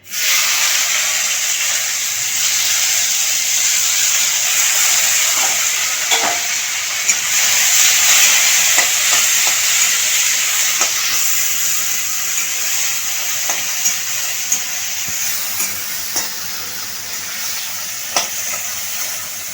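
Steady loud sizzling of chopped tomatoes frying in a pan, with occasional stirring scrapes and pops throughout; no voices.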